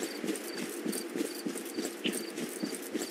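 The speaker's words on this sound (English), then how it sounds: "I heard footsteps." Footsteps in a Roblox horror game, a regular rhythmic run of soft thudding steps with a clip-clop quality, steady and moderately close, no talk over them.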